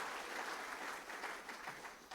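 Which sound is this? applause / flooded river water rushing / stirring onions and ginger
applause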